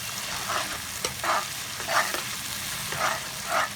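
Sliced onions fry in a pan for dhaba-style chana dal tadka, giving a steady low sizzle broken by about five brief stirring scrapes at even intervals, with no voices.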